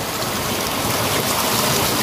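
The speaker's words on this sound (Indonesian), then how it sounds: "di pinggir aliran sungai yang begitu sangat jernih dan melimpah" A clear, abundant river flowing beside a hut at the forest's edge in Sumedang, West Java, with steady, loud broadband rushing water filling the whole stretch.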